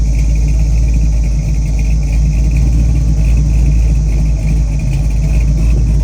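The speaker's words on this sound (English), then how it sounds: "Take a listen to that exhaust note." A 1968 Chevrolet Camaro with a blueprinted 383 V8, HEI ignition and dual exhaust rumbles steadily and loud, a deep continuous exhaust note throughout with no talking.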